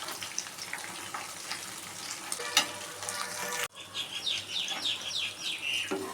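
Green chillies fry and sizzle steadily in a pan while being stirred, a continuous close hiss with occasional scraping clatter, and a brief sharp knock partway through.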